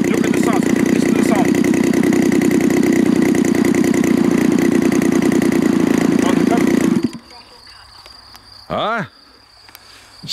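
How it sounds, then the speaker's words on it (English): A 31cc twin-cylinder gas engine on a large model airplane idles steadily with a buzzing, even hum for about seven seconds, then cuts out, leaving faint background and a brief whistling sweep. "The idle is perfect."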